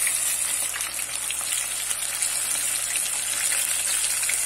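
Breaded shrimp fry in hot oil in a batch, giving a steady, dense sizzle and crackle that holds at an even level throughout, close and fairly loud, with no voices.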